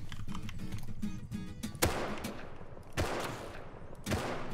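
Gunfire in the survival video game Rust: a few sharp, separated shots ring out among quick keyboard clicking, moderately loud, with no talking.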